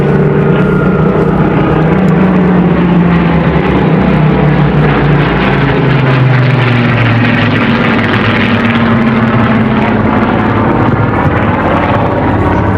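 A Supermarine Spitfire flies at the Blackpool Airshow, its engine droning loud and continuous with a slowly shifting pitch as it passes, and no voices are heard.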